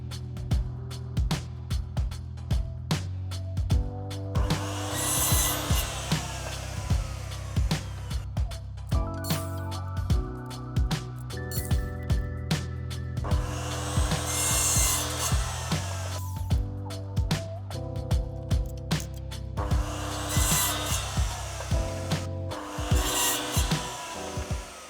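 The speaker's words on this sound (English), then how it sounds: "if you have got a powered saw like this, it makes the job a lot quicker." A powered saw cuts strip wood into pieces for a sofa arm table, with repeated loud whining bursts of cutting between idling motor hum and clicks, close and without speech.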